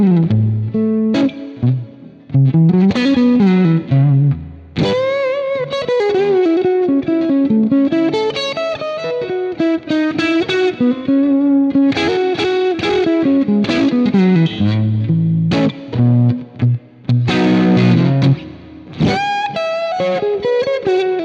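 A modern electric guitar in its intermediate pickup position plays through distortion effects, giving vintage-style tones: steady strummed chords and single-note runs, loud and alone, with brief pauses between phrases.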